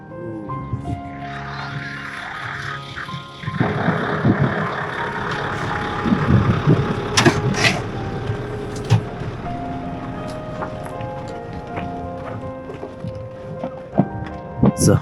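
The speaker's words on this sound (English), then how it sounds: "It's a whole line of traffic." Trucks and cars in a slow line on a snowy mountain road in the Hindukush of Afghanistan, with engines rumbling, several horn toots and scattered clanks nearby.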